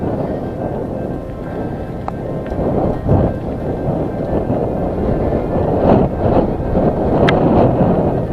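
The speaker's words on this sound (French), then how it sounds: "Quand même beaucoup de vent" Strong wind buffets the microphone on a mountain bike ride, a heavy, continuous rumble with gusty surges and a few faint clicks along the trail.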